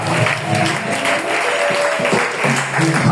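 A church congregation breaks into loud, sustained applause to acclaim the Lord, a dense crowd of clapping hands close by and continuous throughout, with faint voices mixed in.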